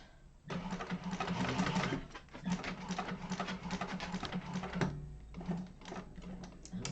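A sewing machine bastes and top stitches a Yoshi Sling bag at a 1/8 inch seam allowance, whirring steadily in close, continuous bursts with a few brief pauses between runs.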